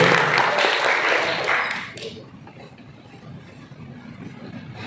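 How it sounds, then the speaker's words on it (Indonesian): An audience applauds a volunteer called forward at a YouTube workshop, clapping loud for the first two seconds and then fading out into quiet room murmur. "kasih aplaus dulu dong. Oke ya, tepuk tangan dulu"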